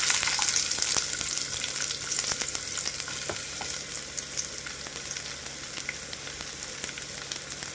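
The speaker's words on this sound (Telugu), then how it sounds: "ఇప్పుడు ఈ నూనెలోకి ముందుగా కట్ చేసి పెట్టుకున్న ఉల్లిపాయ ముక్కలు అయితే వేసుకోవాలి" Chopped large onion pieces fry in hot oil with a steady, close crackling sizzle, broken by occasional stirring scrapes, for an onion chutney.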